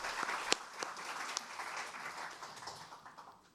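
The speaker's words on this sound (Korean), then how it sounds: "뜨거운 박수 부탁드립니다" A few seconds of audience applause at a policy forum on industrial accident compensation insurance, fairly faint and distant in a large hall, with a few sharper claps standing out before it slowly fades.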